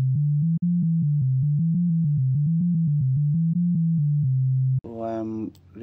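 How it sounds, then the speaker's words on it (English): AI-generated OmniVocal singing from Cubase Pro 15, a pure, sine-like tone stepping through a repeating melody of short notes, ending in a brief, rougher vocal burst. "This is the OmniVocal sound."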